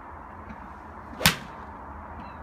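A golf club strikes a ball outdoors with a single sharp, clean crack midway, standing out above quiet background noise.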